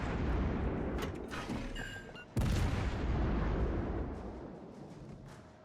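A naval gun turret on a Spanish cruiser fires in World of Warships Legends, one heavy booming blast that rolls on, joining a constant rumbling battle ambience with several fainter bangs before it.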